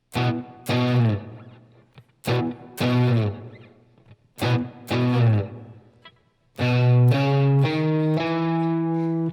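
An electric guitar with distortion plays a chugging riff from a song in repeated phrases, ending on a long sustained chord.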